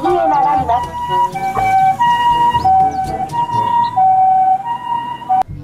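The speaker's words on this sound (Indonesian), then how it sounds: "Ini ada mobil ambulans" A toy ambulance siren sounds loud and close, with a stepping two-tone electronic wail repeating for several seconds before stopping abruptly.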